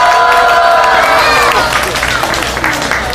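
A crowd at an evening anti-FTA rally applauds and cheers loudly and continuously. The noise stays dense and close throughout, and a voice is faintly present under it.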